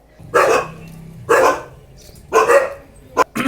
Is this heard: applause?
no